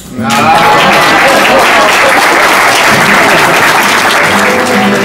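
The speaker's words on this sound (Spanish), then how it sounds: "Aplaudan pues." Loud, dense audience applause at a live performance of a song, swelling in after a brief quiet start and holding steady as a continuous wash of clapping, with some voices and music mixed underneath.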